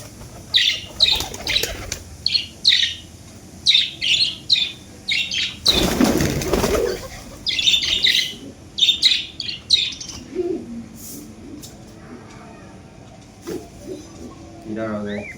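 A Giribaz pigeon flaps its wings in a sudden loud, close flurry as it is caught by hand, amid repeated chirps and tweets from nearby birds.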